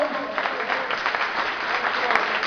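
Sustained applause from a church congregation clapping their hands, a thick even patter of many palms without a break, moderately loud and close.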